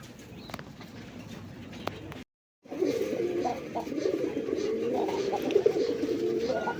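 Pigeons kept for sale coo in a low, throaty stream close by, with a few scattered calls before a brief gap and then denser, overlapping cooing.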